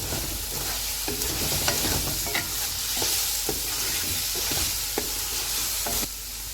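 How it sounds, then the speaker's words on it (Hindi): Eggs fry in masala in a pan, with steady sizzling under repeated scraping and stirring strokes from a utensil, close and continuous. "अंडों को हम 2 मिनट तक मसाले में भूनेंगे"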